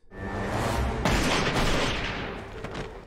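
Gunfire in a tense scene from the TV show Fargo, a dense booming burst of shots with reverberant rumble, loud and close with no talk over it.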